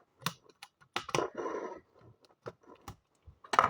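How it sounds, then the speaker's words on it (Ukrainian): Sticky tape being pulled and torn, a sustained ripping rasp followed by sharp clicks and rustles of handling, close up with no talk. "Тепер ми чуть-чуть відвигаємося і відрізаємо скотч."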